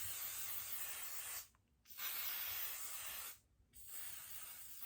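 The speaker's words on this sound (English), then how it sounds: "I'm gonna take the melting spray from Wig Dealer, and I am going to spray that around my hairline" A wig melting spray is misted around a lace wig hairline, giving two long soft hissing bursts separated by short pauses. The sound is close and fairly quiet, with no talking.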